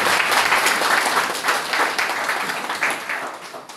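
Sustained applause from a conference audience at a Bahá'í youth gathering in northern Cameroon, dense and steady, fading slightly toward the end with no talk over it.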